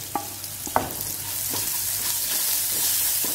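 Ginger and garlic fry in a pan with a steady sizzle, broken by a few sharp clinks and scrapes of stirring, close and continuous.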